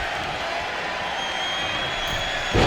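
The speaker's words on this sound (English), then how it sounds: "you hear this capacity crowd following you on that journey" A capacity arena crowd in the WWE 2K25 wrestling video game roars in a steady, dense wash of cheering, with a louder swell near the end.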